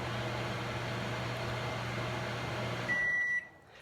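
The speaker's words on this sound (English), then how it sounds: "It needs a good 10 seconds in the microwave." A microwave oven hums steadily up close for about three seconds, then stops with a short high beep and the room goes quiet.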